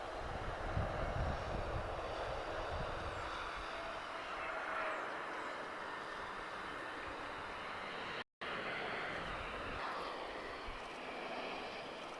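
An A320neo-family jet airliner passing at Lisbon Airport makes a steady, fairly quiet broadband engine roar that holds evenly throughout, with a brief dropout partway through.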